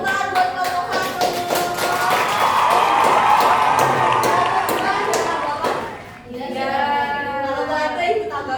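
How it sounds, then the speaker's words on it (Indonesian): A class of seventh-grade students claps and cheers for a group after its presentation, a dense crowd of hand claps running steadily for several seconds, dipping briefly near the end, with voices mixed into the noise. "Tepuk tangan buat kelompok 1"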